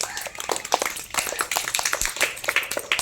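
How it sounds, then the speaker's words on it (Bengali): A group claps at a school rakhi tree-tying celebration outdoors. The applause is close, dense and steady, lasting a few seconds with no speech over it. "সকলে হাততালি একটু।"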